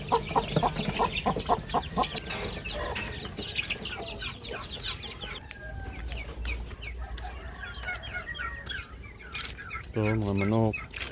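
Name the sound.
chickens clucking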